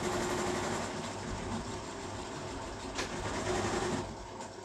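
A sewing machine hums steadily at close range as it stitches a school uniform collar, a continuous mechanical whir with slight rises and falls.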